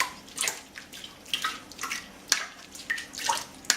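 Strained vegetable stock is poured through a strainer, a soft splashing and gurgling stream with irregular surges and drips, fairly quiet and close, with no talking.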